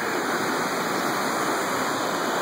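Steady, loud rush of river water flowing close by a road cut, a dense unbroken broadband roar with no talk over it.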